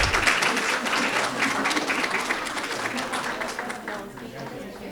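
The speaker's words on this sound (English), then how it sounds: "join me in another round of applause for our school counselors" A school board meeting audience applauds its school counselors, a sustained round of clapping that starts full and slowly thins out over several seconds.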